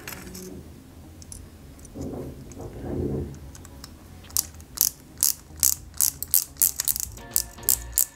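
Tiny screws being driven into a Peugeot 205 GTI 1.9 scale model kit, heard as a rapid series of close, sharp clicking ratchet-like ticks from a small screwdriver after some faint handling noise.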